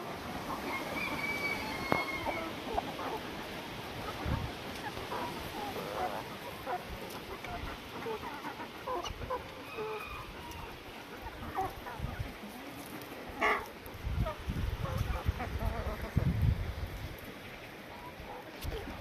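Geese and a gander honk and call outdoors in very strong wind, a mix of scattered bird calls over constant gusty rumble, with louder clustered cries toward the end.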